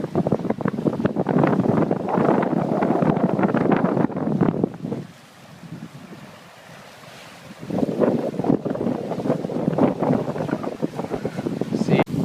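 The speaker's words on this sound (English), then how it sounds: "Now we're videoing the sailing." A sailboat out on open water, with steady rushing wind buffeting the microphone and water sloshing along the hull, easing into a brief lull midway before picking up again; voices are faintly present.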